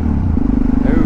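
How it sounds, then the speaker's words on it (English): A Kawasaki Z1000SX motorcycle engine drones loudly and close, its pitch stepping up partway through as it revs. "Let's rev it."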